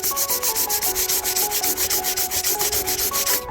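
Sandpaper scrubbing bodywork on an OBS truck, a cut-out repair area being smoothed, with steady rapid back-and-forth strokes, loud and close, with no voices.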